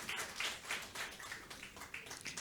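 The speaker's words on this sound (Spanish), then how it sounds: "que venga con un fuerte aplauso" Faint, thin clapping from a church congregation at a New Year service, scattered hand claps with a quick uneven rhythm, heard from a distance.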